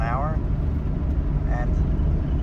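Steady low engine and road rumble from a high-mileage barn-find stock Toyota Supra cruising at almost 50 mph, continuous throughout with brief speech-like tones rising over it.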